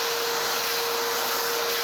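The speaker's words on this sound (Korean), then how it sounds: "아까 앞판 청소했을 때 이 드럼 내부로 떨어진 재 같은 거는 청소기로 한번 다 밀어줄게요." A vacuum cleaner sucks ash out of a coffee roaster drum, giving a loud, steady, unbroken whine with a single constant hum running under the airflow.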